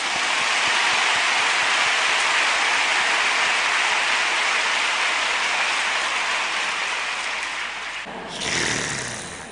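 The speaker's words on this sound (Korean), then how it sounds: "박수 한번 크게 쳐보십시오." Congregation applauding loudly in church during a sermon on the resurrection, a thick roaring wall of clapping from a large crowd that sustains for about eight seconds, then briefly drops and surges again near the end.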